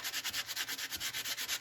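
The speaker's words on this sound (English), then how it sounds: "So this is a sanding block that I have." A sanding block rubbed back and forth over altered paper coated in plaster, giving a steady run of about a dozen rhythmic rasping strokes, close and fairly quiet, with no talk.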